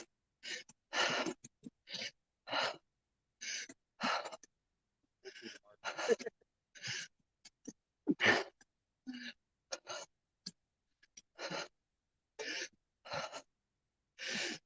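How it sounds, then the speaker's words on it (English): Heavy, labored breaths from someone walking a park trail, a rough series of loud huffs and gasps repeating every second or so, close to the mic, with silence between. "Listening to me heavy breathe"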